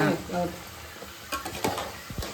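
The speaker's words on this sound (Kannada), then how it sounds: "ಇದು ಈ ಕಡೆನ ಫ್ರೈ ಆಗ್ತಾ ಇದೆ" Sambar frying in a pan, with a soft crackling sizzle and scattered stirring scrapes and clinks. Voices talk over much of it.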